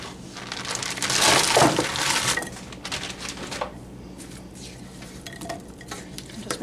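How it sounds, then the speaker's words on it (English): Venison meatballs being stirred into a blueberry BBQ sauce in a pot make scraping, sloshing and faint sizzling sounds, with a louder stirring burst early on, followed by softer scrapes and clinks. "I'm just going to stir this up good. And throw in my meatballs."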